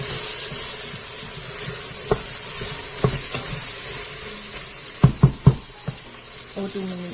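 Fried chicken and biryani ingredients being stirred in an Instant Pot over a steady background sizzle, with a few sharp spoon knocks against the pot and a quick cluster of clanks near the end.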